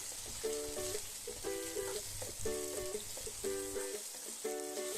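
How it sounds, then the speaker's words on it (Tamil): Tomatoes and dried red chillies frying in oil for a sardine gravy give a steady soft sizzle with a low hum, overlaid by regular short tonal beeps, with no speech. "நாம கட் பண்ணி வச்சிருக்கிற தக்காளியும் சேர்த்து வதக்கிக்கலாம்."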